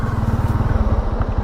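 A motorcycle engine runs on a mountain road in Thailand, a steady, close, pulsing low rumble that throbs in a regular rhythm throughout, with no talk.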